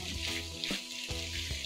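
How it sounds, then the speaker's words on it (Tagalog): Pork fat sizzles and crackles in a hot pan, with a steady bubbling hiss and soft irregular pops, fairly quiet and close. "Kaya lang natin siyang medyo ma-fry."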